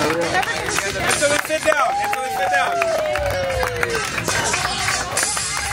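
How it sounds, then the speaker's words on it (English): An audience at a rehearsal dinner in Tulum, Mexico keeps up rapid, steady clapping throughout, partly under loud talking and crowd chatter close by. "Don't stop clapping, don't stop clapping, don't stop clapping."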